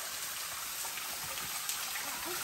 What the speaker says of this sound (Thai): น้ำหน่อยเดียวตกปอกแป๊กปอกแป๊กอ่ะ